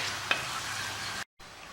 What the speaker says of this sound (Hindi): अब इसे हम लगभग 10 मिनट फ्राई करेंगे बढ़िया चिकन को